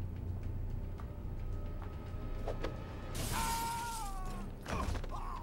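Glass shatters loudly as an enemy is kicked through a window in the Catwoman PS2 video game, a bright crashing burst with a wavering tone, set against steady game background noise and mechanical clicks.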